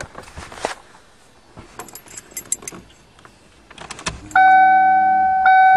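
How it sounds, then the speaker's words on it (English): A 1994 Ford Taurus wagon's fuel pump switches on with a sudden steady electric whine that hums on to the end, following a few scattered clicks and small metallic knocks. "So, let's test if the fuel pump turns on."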